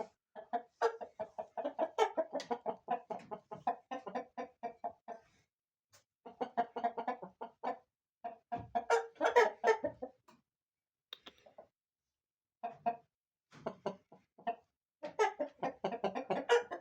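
Caged chicks and breeding chickens clucking in bursts, a dense chorus of close, fairly quiet clucks and cackles separated by short pauses, with no talking.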